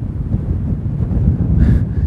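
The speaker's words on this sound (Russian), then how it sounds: "порывы ветра буквально вырывают телефон из рук" Strong mountain wind gusts buffet a handheld phone microphone on a hiking trail in Spain's Ordesa Valley in the Pyrenees, a loud, continuous low roaring rumble that swells slightly toward the end.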